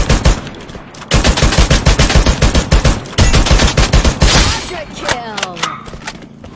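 Loud, rapid automatic gunfire from a video game shooter, with bursts of repeated shots close up, brief pauses, and a quieter tail of scattered shots and debris at the end; a voice is briefly audible.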